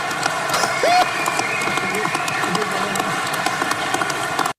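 A crowd at a political rally claps along, a dense steady patter of hands with cheering and crowd noise throughout, ending abruptly.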